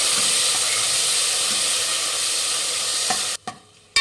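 Chopped tomatoes hiss and sizzle loudly in a pan as they are stirred, a dense steady fry that cuts out sharply near the end with a couple of quick knocks.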